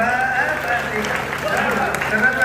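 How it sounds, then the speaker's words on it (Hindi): Audience applause at a Hindi comedic satire performance, a steady wash of clapping filling the room for a couple of seconds with a voice faintly mixed in. "जरा सी तालियां बजा दीजिए"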